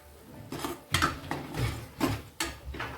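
Stirring salt into fried spice paste in a pan for a Maharashtrian Bhogi mixed-vegetable dish: a spoon scrapes and knocks against the pan in several uneven strokes, close and fairly loud, with no talking.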